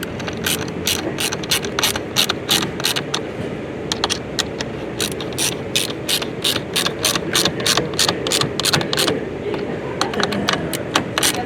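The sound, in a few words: ratchet with 8mm socket tightening bolts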